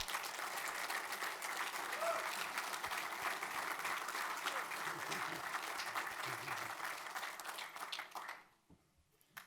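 Sustained audience applause at an athletic alumni Hall of Fame banquet for the 2020-2021 inductees, a thick continuous clapping from a crowd lasting about eight seconds before cutting off abruptly into quiet.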